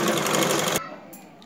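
A sewing machine stitches a blouse in a short, loud, rapid run of needle strokes that stops abruptly, leaving quiet.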